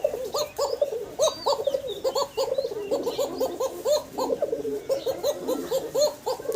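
Fancy pigeons coo repeatedly in quick, throaty bursts, close and clear, with overlapping calls forming a steady rhythmic chorus.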